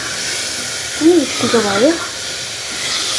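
Spices stirred in a hot pan for a goat meat curry hiss and sizzle in a constant, close wash of frying noise, while a voice speaks briefly over it.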